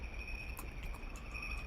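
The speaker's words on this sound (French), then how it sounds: "le son de la nuit et des grillons se fait fort, lourd, et surtout, il ralentit" Dense chorus of night crickets chirping steadily in a video game ambience (Baldi's Basics), a continuous high trill with faint low rumble beneath, no voices.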